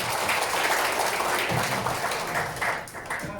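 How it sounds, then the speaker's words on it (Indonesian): A room full of people applauds, steady clapping throughout that slowly thins toward the end. "Tepuk tangan yang bikin tema."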